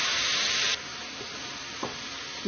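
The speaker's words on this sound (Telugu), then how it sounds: "ఇప్పుడు దీనిలో మిక్సీ పట్టుకున్న కొబ్బరి పాలు పంచదార ఈ మిశ్రమం అంతా వేసేద్దాం" Frying semolina sizzles loudly as a blended coconut milk and sugar mixture goes in, a bright hiss that drops sharply after a moment into a quieter simmering crackle with a few soft stirring knocks.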